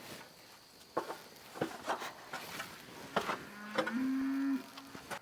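A cow lets out a long, low moo near the end, with scattered rustling and shuffling noises around it and no one talking.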